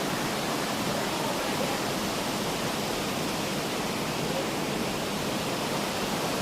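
Waterfall pouring into a small lagoon, a dense steady rush of falling water heard close and continuous without a break.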